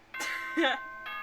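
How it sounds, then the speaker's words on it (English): A chime-like doorbell announcement tone in the Danganronpa 2 video game rings out in sustained steady tones, heard alongside a voice. "Ding dong, bing bong."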